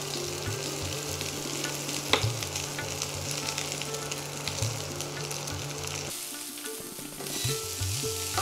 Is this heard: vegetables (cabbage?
yes